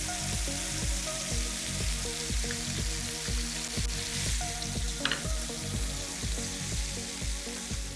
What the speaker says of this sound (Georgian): კარგად დაიბრაცა უკვე ბეკონი ორივე მხრიდან.